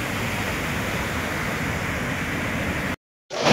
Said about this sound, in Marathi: बघा तुम्ही किती प्रेशरनं पाणी चाललंय बघा.